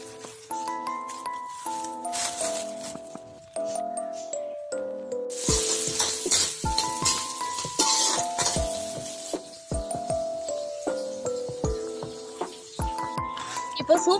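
Chicken curry cooking in a pot, with steady sizzling and frying under clinks of a utensil against the pot, alongside musical tones running throughout, close and moderately loud.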